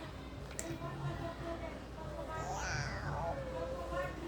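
A voice imitates a cat, giving one drawn-out, rising-then-falling meow amid soft background chatter.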